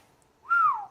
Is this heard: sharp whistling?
yes